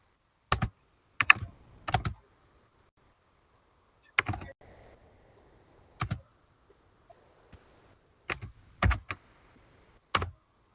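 Sparse bursts of computer keyboard typing, close and crisp, in short clusters of keystrokes separated by pauses in a quiet room.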